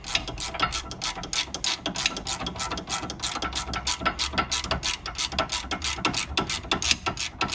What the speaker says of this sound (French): tu peux continuer à visser ton boulon de façon